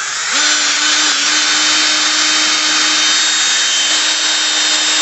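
A power drill runs steadily for about five seconds, boring a half-inch hole for a pin in the frame of a homemade all-terrain sand wheelchair; the whine is loud, close and continuous with no talking.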